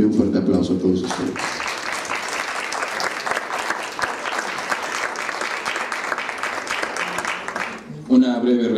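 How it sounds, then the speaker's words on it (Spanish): A conference audience gives sustained applause to welcome a speaker at a talk on art collecting. Dense clapping fills about seven seconds, with a speaking voice just before it starts and again right after it ends. "le pido un fuerte aplauso a todos ustedes"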